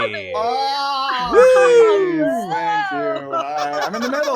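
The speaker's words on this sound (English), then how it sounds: "it plays the screaming goat sound, but it is dying from the batteries" A screaming goat toy with dying batteries plays a warped, wavering bleat that bends in pitch, loud and close, with people talking over it.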